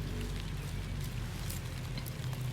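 Rain falling outdoors, a steady close hiss of drops pattering on surfaces that continues evenly without pause.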